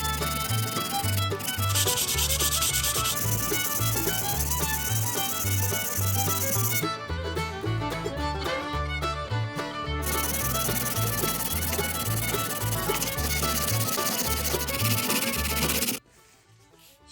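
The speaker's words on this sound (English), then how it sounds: "So I've gone in with the 100 grit just to take the edges out from the grinder sander wheel, just to smooth it out a bit." A King Dick pipe wrench is rubbed by hand with 100-grit sandpaper, a continuous scratchy sanding over a steady beat of background music that cuts out near the end.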